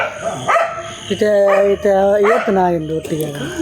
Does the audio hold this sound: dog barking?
yes